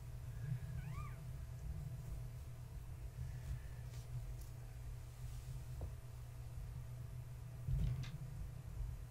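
Kittens mew softly indoors at bedtime, a few short high cries early on and again near the end, faint over a steady low hum.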